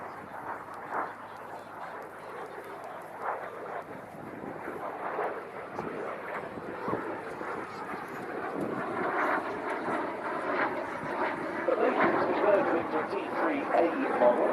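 RAF Jet Provost T3A trainer flying at the Cosford air show, a moderate fluctuating engine drone rising slightly over time, mixed with wind buffeting and a commentator talking throughout.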